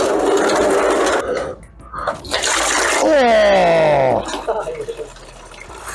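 Coolant gushes and gurgles out of a radiator hose on a 2007 Subaru Forester during a radiator replacement, a loud close splashing pour that rises and then tapers off, with a brief surprised exclamation from a person.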